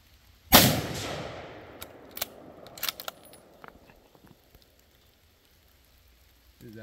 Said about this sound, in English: I took the first shot.